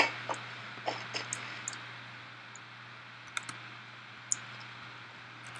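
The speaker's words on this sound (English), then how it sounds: "Sounds like mouse clicking." Sparse computer mouse clicks during a session of the horror game Amnesia: The Dark Descent, a few sharp, faint clicks scattered over several seconds above a steady low electrical hum, with no voices.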